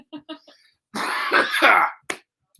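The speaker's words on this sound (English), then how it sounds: "Sorry, guys. Wet cough." A couple of quick throat clears, then a long, harsh, wet cough and one short cough after, close up.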